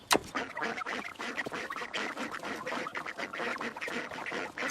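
A flock of ducks quacks continuously and noisily, many overlapping calls close by with no pauses.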